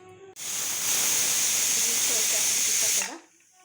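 Pressure cooker steaming carrots lets off one loud, sustained steam hiss that starts abruptly, holds for nearly three seconds and cuts off sharply.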